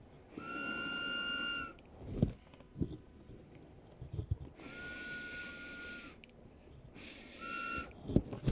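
Air is blown through a set of water whistles that haven't been filled with water yet, giving three sustained whistle tones with a strong, steady pitch, each lasting about one to one and a half seconds. The whistles are separated by breathy pauses and a few knocks.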